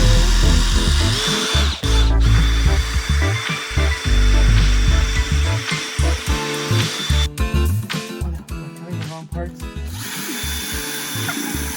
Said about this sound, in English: my drill with a graduated metal cutting bit sort of brute forced its way through the pumpkin